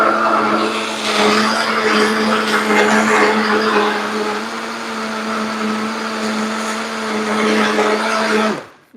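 A high-powered blender runs continuously for about nine seconds, blending a thick mixture with a loud steady whir and a strong motor drone that holds level throughout, then cuts off abruptly at the end.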